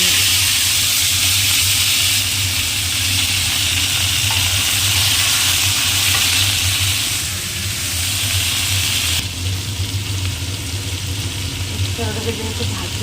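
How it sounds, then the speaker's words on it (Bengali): Bitter gourd and potato fry in a generous amount of hot oil left over from frying fish, giving a steady, close, bright sizzle that runs throughout over a low background hum. "এটার মধ্যে আমি এই উচ্ছে আর আলুটাকে ভেজে নেব।"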